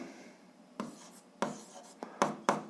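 Pen or marker writing an algebra equation on a board, a series of short scratchy strokes and taps in irregular rhythm, close and fairly quiet with faint room noise.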